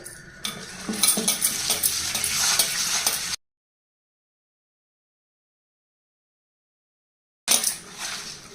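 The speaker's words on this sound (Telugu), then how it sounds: "ఉప్పు వేసి మట్టి పాత్రలో రుద్దాలండి" Small bitter fish being scrubbed with coarse salt in a clay pot, a gritty, scraping rasp with uneven strokes that stops abruptly into silence and then resumes briefly.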